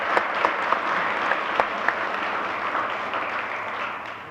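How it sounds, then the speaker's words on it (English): An audience claps for a speaker after a talk on drones, giving steady, moderately loud applause with a few sharper individual claps standing out, sustained throughout before easing slightly at the end. "I think we should give Matt a good hand of applause first"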